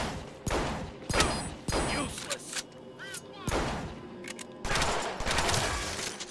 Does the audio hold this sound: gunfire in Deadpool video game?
yes